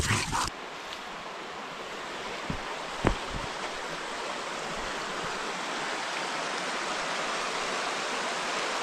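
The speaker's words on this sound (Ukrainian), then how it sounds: "Гірська річка." Steady rushing of a fast mountain river in the Carpathians, broad and continuous throughout, with a few faint knocks near the start and middle.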